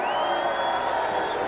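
Soundboard crowd-cheer effect playing as a dense, steady burst of cheering and whoops with a rising tone, loud and continuous for its short length.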